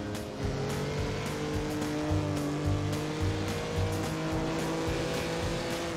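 Engine of a 1950s Lancia Formula One car in a racing video game, a loud, steady, high-revving drone with shifting pitch tones and brief dips as it works through gears.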